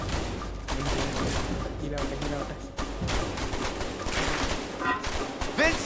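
Rapid gunfire from the video game A Way Out, with bursts of shots and sharp cracks running densely through the scene over constant game noise, while voices talk over the action.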